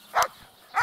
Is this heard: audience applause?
no